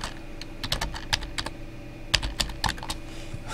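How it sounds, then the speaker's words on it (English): Irregular bursts of close, crisp keystrokes on a computer keyboard, quick clusters of clicks with short pauses between them, over a faint background hum and with no speech. "And I can type in here something like..."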